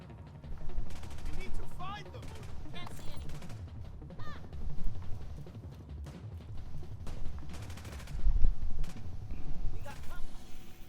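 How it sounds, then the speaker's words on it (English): Gunfire in The Division 2 on Xbox One X, bursts of automatic shots and single cracks going off repeatedly at middle distance through the whole stretch, loud against a busy game soundscape. "Technically I am getting shot at, so we're gonna go to the base of operations, like now, before I get killed while I'm just standing here."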